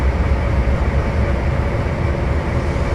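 A video-game locomotive throttling up toward top speed gives a steady, dense low rumble with continuous rail-like roar, loud and unbroken throughout, no voices.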